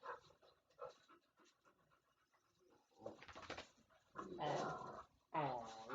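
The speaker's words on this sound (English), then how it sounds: "Oh, look at dog." A miniature dachshund pants in quick bursts, with a brief low growl, close and fairly quiet, followed by a few louder breathy huffs; no speech.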